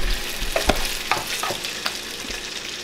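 Garlic mixed with curry sauce frying in a pan, a steady close sizzle with a few soft stirring clicks and scrapes over it.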